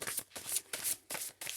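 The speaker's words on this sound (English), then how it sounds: "Shuffle those together another time." Tarot cards are shuffled by hand close up, giving a series of quick, crisp riffling bursts with brief pauses between them.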